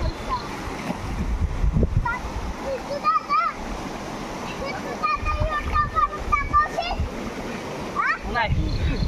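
A heavy village quilt, soaked and beaten, is wrung out at a stream, water splashing and dripping back in uneven bursts while people talk nearby.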